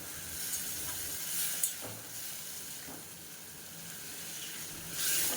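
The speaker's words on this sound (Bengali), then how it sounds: "এবার এর মধ্যে আমি পরিমাণ মতো জল দিয়ে দিচ্ছি" Water is added a little at a time to a hot pan of potato, eggplant and small fish on low flame, giving a faint, steady sizzling hiss that swells briefly near the start and end.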